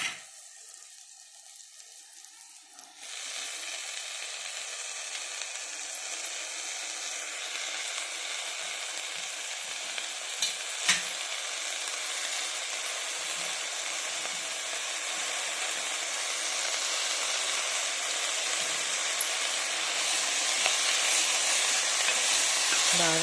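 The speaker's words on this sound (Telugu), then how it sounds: "ఇప్పుడు పాలకూర వేసేసుకుందామండి" Spinach dropped into a pan of fried onions for palak khichdi, a sudden burst of loud hissing sizzle after a quiet start that keeps going strongly to the end, with faint clinks of utensils.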